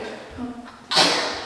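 A single sharp sneeze bursts out during work on a kitchen island install, loud and close, following a moment of quiet low murmuring.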